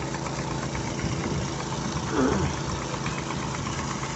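A petrol-powered irrigation water pump engine runs steadily close by, a continuous rough mechanical drone with a slight surge midway.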